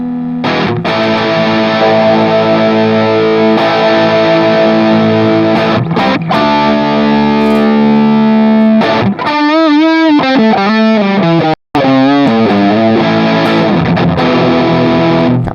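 Electric guitar played through a Flamma FS06 preamp on its distorted third channel, loud and saturated with sustained chords, then a run of bending, wobbling notes, a brief dropout and more driven playing.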